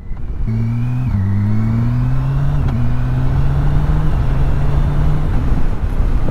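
A 2017 BMW K1600 Bagger touring motorcycle accelerates smoothly in road mode, its engine note climbing through several gear changes in a loud, close, steady drone over wind rush.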